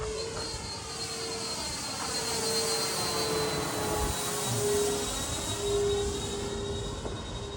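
A radio-controlled Nexa B-24 model bomber flies overhead with a steady, continuous engine drone and a high whine, holding roughly even loudness at moderate distance throughout, with no talk.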